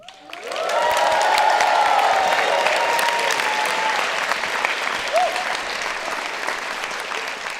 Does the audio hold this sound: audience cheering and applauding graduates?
yes